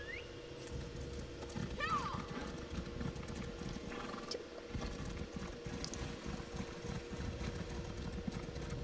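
Rhythmic clip-clop of a horse's hooves while riding in a fantasy role-playing game, steady and continuous with an occasional whinny, under quiet commentary.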